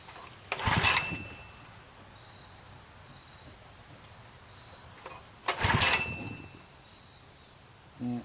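A Craftsman dual-stage push snow blower engine is pulled over twice and fails to start, each attempt a short, loud grinding crank burst separated by quiet, with a faint third pull at the end.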